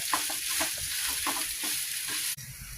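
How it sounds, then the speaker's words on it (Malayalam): A potato mixture stirred as it fries in a pan, with close, steady sizzling and rhythmic scraping strokes repeating every half second or so, then a brief pause near the end. "ഇത് നല്ലോണം നമുക്ക് മിക്സ് ചെയ്യാം."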